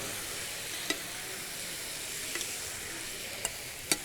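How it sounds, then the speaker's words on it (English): Seasoned Jamaican jerk chicken sizzles steadily in a pan at low volume, with a few faint clicks and scrapes of a utensil stirring it. "All right, stir this up."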